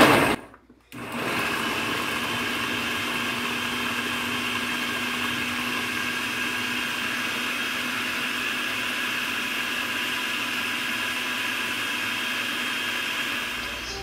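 Garlic being chopped in a food processor gives a loud, steady high-pitched motor whine after a short silent gap at the start, running continuously with no talking.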